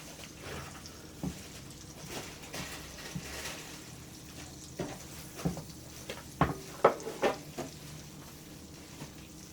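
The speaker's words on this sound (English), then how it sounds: "I'm getting ready to saute these shrimp" Shrimp sauté in a pan with a soft, low sizzle, punctuated by a few sharper utensil clinks and scrapes toward the end.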